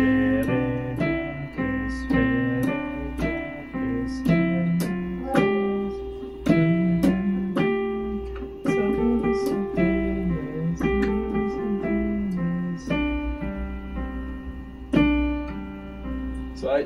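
Piano playing the children's melody Frère Jacques in a beginner lesson, clear single notes in an even quarter-note rhythm with occasional held notes, close and alone.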